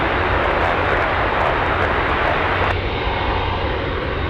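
Engines of a Boeing 747 Dreamlifter cargo aircraft at Anchorage roar loud and close, a dense continuous rumble whose upper hiss drops away abruptly partway through while the low drone carries on.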